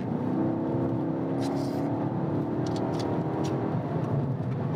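A car accelerating to overtake another vehicle, its engine hum rising steadily in pitch under a constant road rumble, with a few brief clicks and knocks inside the cabin.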